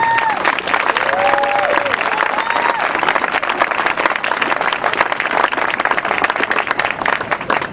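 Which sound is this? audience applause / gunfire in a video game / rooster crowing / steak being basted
audience applause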